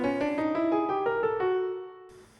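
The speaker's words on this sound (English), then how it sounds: "This can also be played from bottom to top in retrograde inversion," Several distinct instrumental notes step through the retrograde inversion of the twelve-tone row from Webern's Op. 22, an angular, atonal line, then the final tone rings out and decays into quiet.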